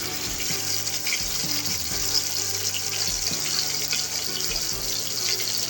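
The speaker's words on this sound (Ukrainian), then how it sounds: "овочі трішки засмажились" Peppers, onion and mushrooms frying in a pan, a dense steady hiss close by, rushing like running water, with faint tonal hum beneath and no talking.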